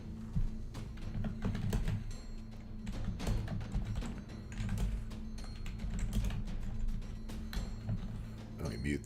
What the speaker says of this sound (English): Let me mute this so I don't kill you with my typing.